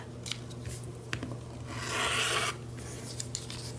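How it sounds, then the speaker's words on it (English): Scissors trimming fabric for a mini Christmas stocking, a few close rasping snips and rubbing scrapes with one longer cut in the middle, quiet and alone. "I'm going to trim this off"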